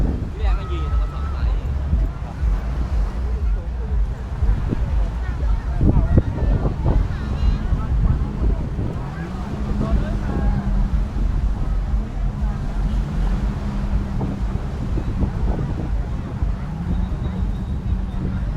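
Strong wind blows across Pattaya beach during a kite festival, a steady roaring rush of low-frequency buffeting on the microphone throughout, with people talking and a faint engine hum underneath.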